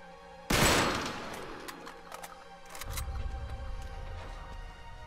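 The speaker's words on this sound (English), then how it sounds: "Back up, I'll shoot the lock." A single loud gunshot at a lock in Uncharted 3: Drake's Deception rings out close, followed by a few faint clicks and a low rumbling ambience.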